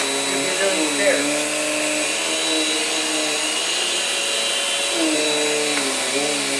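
An upright Sanitaire S782B vacuum cleaner runs steadily and fairly loud throughout, a constant motor whine and airflow hum with slight pitch wavers, with no pause or break.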